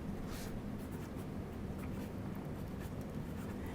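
A pen scratches steadily across paper, quiet and close, as one continuous writing sound with no pauses.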